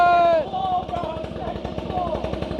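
A small 130HP mini ATV engine revs hard at close range with a loud buzzing drone, then drops into a rapid, chattering idle-like pulse with a brief second rev near the end; people talk over it.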